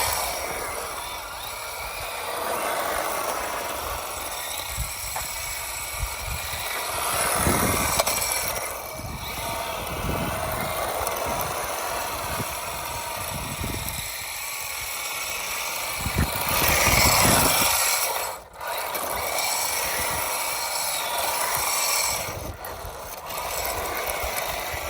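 Whirring electric motor and gear whine of an MJX Hyper Go H16BM RC car on drift tires, rising and falling as it drifts, with scraping bursts and no talk.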